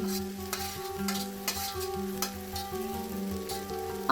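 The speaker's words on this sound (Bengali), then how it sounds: "এটাকে আবার নেড়ে নিতে হবে" Jackfruit and potato masala being stirred in a frying pan for Bengali echor kalia, with scraping strokes about every half second over a soft sizzle and a steady music bed.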